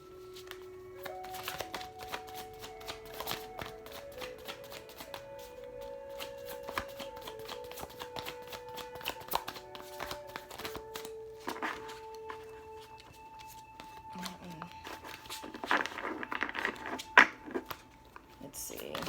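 A tarot deck is shuffled by hand in a quiet room, with soft, repeated riffling and slapping of cards, a few louder card flicks near the end, and faint background tones underneath.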